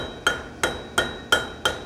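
A blacksmith hand-hammers forged metal at the 2015 Rocky Mountain Smiths Conference, smoothing marks left by a power hammer: five sharp ringing blows at an even pace, close and loud, with no talking.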